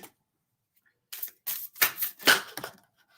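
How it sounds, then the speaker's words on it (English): Tarot cards are shuffled in several quick, crisp bursts of riffling and snapping, close up, with short silences between them. "Let me just shuffle. I feel to shuffle this again."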